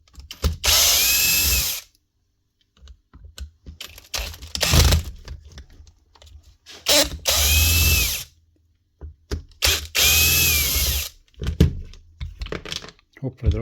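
Screws being driven out of the casing of a Dewalt D25810 hammer with a power drill, three loud whirring bursts of about a second and a half each, separated by quieter clicks and handling, with someone talking in between.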